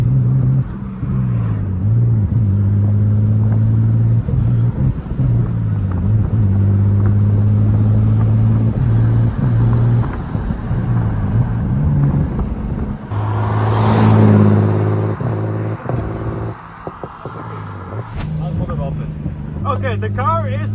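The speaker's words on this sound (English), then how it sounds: "the car is turbocharged now and the car is kind of somewhat running" Turbocharged BMW E36 drift car engine idling roughly with a deep, loud droning rumble, close by, the pitch rising and dipping with occasional revs and a brief whoosh, voices talking over it.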